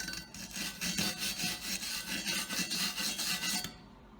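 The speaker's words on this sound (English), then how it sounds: "we're gonna brush this off" A wire brush scrubs slag off a structural steel weld, with rapid repeated rasping strokes, close and fairly loud, ending abruptly after nearly four seconds.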